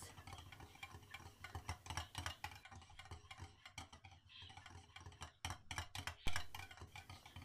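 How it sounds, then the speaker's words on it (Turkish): A whisk beats yogurt in a bowl to make it smooth, giving rapid, steady clicking and scraping strokes that continue all the way through at close range. "Krem şanti gibi pürüzsüz olana kadar bu şekilde çırpıyorum."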